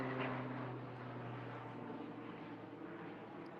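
A propeller airplane passing overhead outdoors, a steady droning engine hum that is strongest at the start and slowly fades as it moves away.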